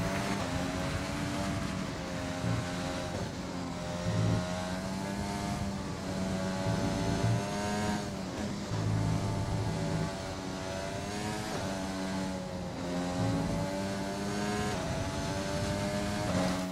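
Formula 1 car engine in the F1 2020 racing game during a qualifying lap at Suzuka, a loud continuous high-revving whine that rises and dips through gear shifts and corners, steady and close throughout with no voices.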